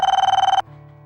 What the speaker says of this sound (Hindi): फोन की घंटी पे घंटी बज रही है